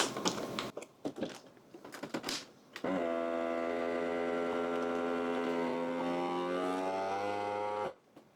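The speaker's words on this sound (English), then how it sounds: "now we're going to go ahead and vacuum seal them." A steady mechanical hum of a vacuum sealer pump sealing food bags runs for about five seconds and cuts off, after some brief clicks and rustling.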